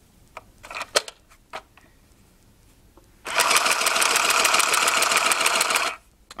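A children's sewing machine runs in a fast, buzzy burst of stitching lasting about three seconds. A few sharp clicks and taps from handling the machine come first.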